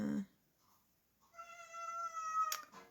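A pet cat whines indoors: a short low sound at the start, a pause, then a drawn-out tonal meow-like whine rising in strength and ending with a sharp squeak, heard close and alone.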